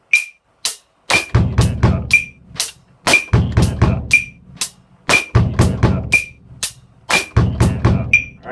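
A drum groove with the bass drum on the 'e' and 'and' after beat 2, played in a steady repeating loop of kick thumps, snare hits and ticking hi-hat or cymbal strokes, loud and close with no talking.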